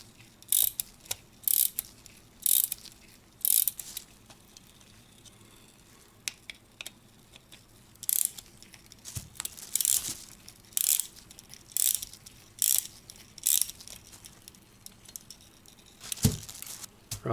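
Winding the springs of a German mantle clock with a key produces repeated bursts of sharp ratchet clicking, close and fairly quiet, with short pauses between turns and no talking.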